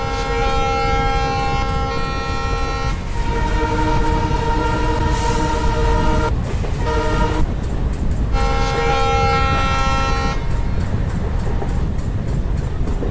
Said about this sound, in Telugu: నిజంగా ట్రైన్ జర్నీ చేస్తున్నట్టుగా ఆ సౌండ్ సిస్టమ్ అన్నీ చాలా బాగుంది